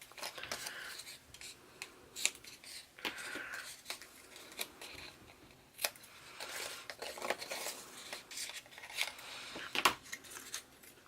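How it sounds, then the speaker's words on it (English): Scissors cut paper diagonally for a mini album, a quiet run of close snips and crisp paper rustles and taps at an uneven pace. "And then we're going to cut the diagonal on this."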